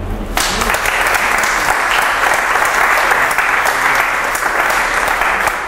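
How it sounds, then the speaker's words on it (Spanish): A church congregation in San Salvador, El Salvador, claps loudly and steadily for several seconds, with sustained dense applause that starts abruptly and continues without pause. "Vamos a aplaudir al Señor."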